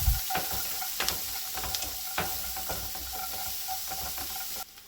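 Cashew nuts and chopped onion sauté in a hot pan, a steady loud sizzle with scattered stirring clicks and scrapes throughout, close by, ending abruptly.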